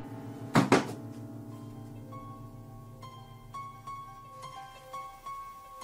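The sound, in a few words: basement door slamming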